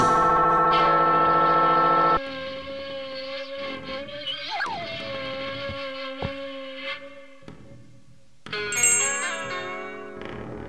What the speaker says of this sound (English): Let's see what happens when I hold this thing against the bell.